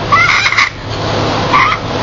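A chicken calls twice, in short gobbling, warbling bursts separated by a brief pause. The calls are close and fairly loud over a low background hum.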